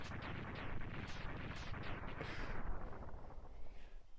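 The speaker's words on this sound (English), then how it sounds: "I am gonna throw a bomb at his crotch" A thrown bomb hitting a boss in the video game Mega Man X2 sets off a rapid string of sharp, loud blasts, several bursts crackling one after another before fading into a short rumbling tail, with no talk.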